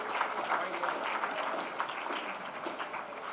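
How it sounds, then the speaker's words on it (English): Audience applause welcoming a speaker to the stage at a science lecture, a steady even patter of clapping from a seated crowd at moderate distance, with no talking over it. "with a round of applause"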